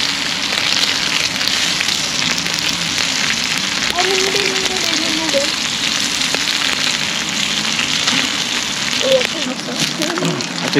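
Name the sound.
rain falling outdoors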